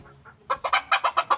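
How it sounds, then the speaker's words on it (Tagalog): A black chicken clucks close by, with two soft low clucks followed by a quick run of about seven sharp, evenly spaced clucks. "Ito po ay black chicken."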